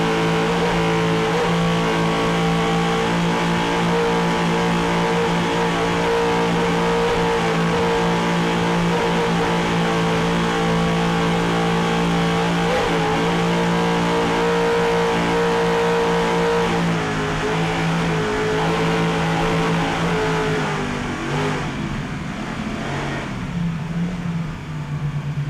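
Pro Marine's 39-foot MTI racing powerboat, Sterling Power, thunders into a harbor during rough-water powerboat racing, its engines a loud, steady, continuous roar that holds nearly unbroken before shifting slightly toward the end.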